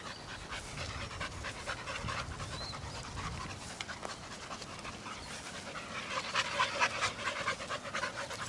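A dog pants rapidly and steadily at close range, a continuous breathy rhythm that grows a little louder toward the end.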